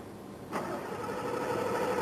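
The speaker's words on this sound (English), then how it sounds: "such as repeated attempts to start the engine without success." A car engine cranks as someone tries to start it, a steady whirring drone that sets in abruptly about half a second in and keeps going at an even level with no catch.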